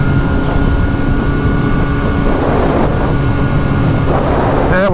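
A 2023/2024 Triumph 765RS motorcycle engine drones loudly and steadily through a decatted Akrapovic full-system exhaust, a deep throbbing rumble with wind buffeting the microphone.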